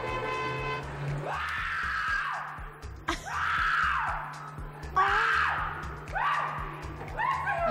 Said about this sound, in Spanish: Pero grita como una loca este chico,